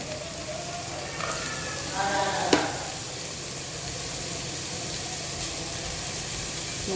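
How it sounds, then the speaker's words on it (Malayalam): Carrots stir-frying in a pan with beans for fried rice, a soft steady sizzle with faint scraping of a spatula and one brief sharp clink midway, quiet and close. "ഇനി നമുക്ക് നമ്മുടെ ക്യാരറ്റ് ഇട്ട് കൊടുക്കാവേ"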